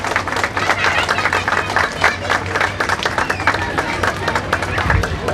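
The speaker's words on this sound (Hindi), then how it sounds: "तालियां बजती रहे" An audience at a Ram Katha gathering claps continuously, a dense, steady roar of many hands heard close and sustained throughout with no letup.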